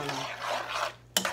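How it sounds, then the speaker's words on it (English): A spoon stirring homemade Cajun sauce in a pot, a soft, close scraping swirl that pauses briefly before one sharper clink against the side. "Now you're gonna stir this around."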